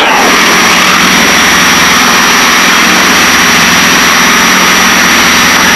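Piper Seneca twin-engine aircraft on landing approach, its engines a loud, continuous, unbroken drone filling the cabin throughout with a steady tonal hum.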